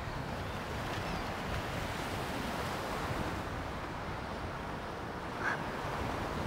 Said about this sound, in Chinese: 送给你，这里面有大海的声音。